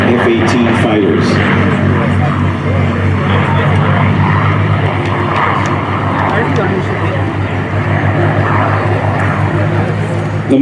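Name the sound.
P-51 Mustang propeller aircraft flying at air show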